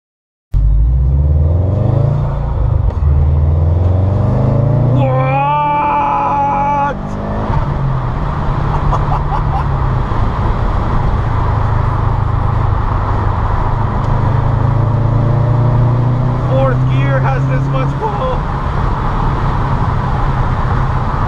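A 2012 Subaru Impreza WRX Stage 2 turbocharged car accelerating hard under boost, its engine note rising through the gears as a loud, sustained drone heard from inside the cabin, with someone talking over it.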